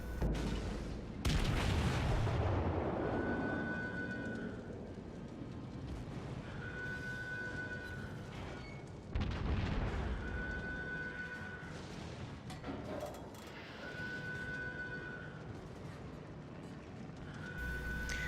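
Heavy naval guns of a Tier VII US battleship, the Colorado, fire in World of Warships: several deep, booming salvos with long rumbling tails, spaced several seconds apart, loud and close, with ringing tonal effects between shots.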